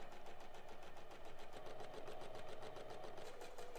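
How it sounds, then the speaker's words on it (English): Continuous rhythmic whir of a sewing machine stitching an apron seam, a steady pulsing motor hum heard close and alone at moderate level. "He backstitched and then now he's sewing."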